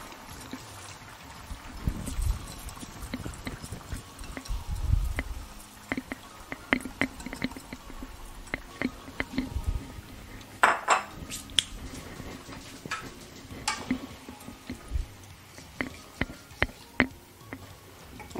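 Rice goes into a cooking pot for Panamanian coconut rice with pigeon peas, heard as scattered clinks, taps and soft rattles of utensils against the pot, close and fairly quiet.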